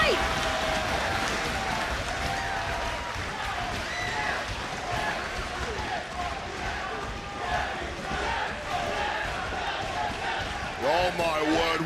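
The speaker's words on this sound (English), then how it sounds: "The crowd chanting, fight forever" A large wrestling crowd roars and chants "fight forever" in a big arena, dense and loud throughout, with cheering swelling near the end.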